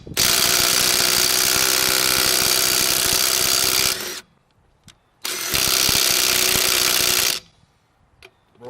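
A Bauer 20-volt impact driver hammers loudly at a lug nut tightened to 100 foot-pounds, one four-second rattling burst, a pause, then a second burst of about two seconds as the nut breaks free.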